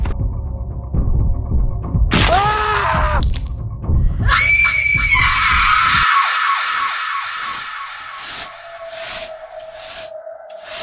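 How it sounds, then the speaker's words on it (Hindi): In a horror story, a shrill, wavering scream cuts through a dark, rumbling soundscape, followed by long, eerie, sustained ringing tones and throbbing swells. "तुमने भी चीख की आवाज सुनी?"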